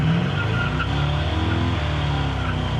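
A 1968 Chevrolet Chevelle accelerates hard from a dead stop, its engine giving a loud, steady, close-up roar throughout.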